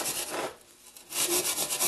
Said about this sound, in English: holding the saw at an angle, so it lines up with this angle drawn on the edge